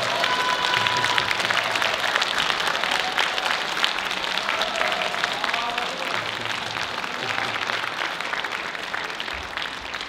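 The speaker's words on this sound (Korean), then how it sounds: "박수 부탁드립니다." Sustained audience applause fills a university dance showcase hall at the curtain call of a Korean traditional dance performance, steady dense clapping from a large crowd throughout, with no clear voices over it.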